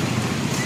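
Heavy rain falls steadily outside a parked Pajero, a dense, continuous hiss close by with no pauses over a short stretch.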